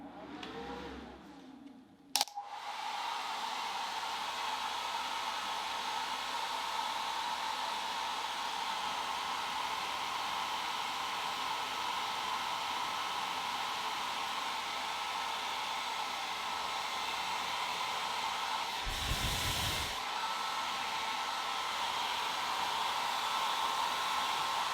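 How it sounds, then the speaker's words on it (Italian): Hair dryer drawing about 1100 watts from a Jackery Explorer 1000 portable solar generator, switching on after a brief click and then blowing with a steady loud whooshing hum for over twenty seconds, with one brief dip partway through. "Nessun problema a far funzionare l'asciugacapelli con 1100 watt di assorbimento."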